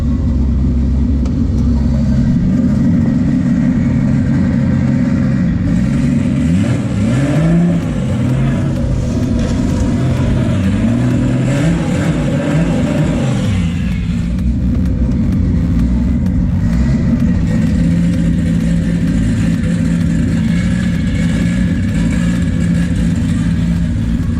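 Car engine fitted with a sequential TR6060 shifter idles loudly and close, rising through several revs in the middle before settling back to a steady rumble.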